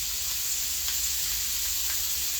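Shrimp sizzling on a hot griddle grill, a steady close hiss of frying with faint scrapes, no talking.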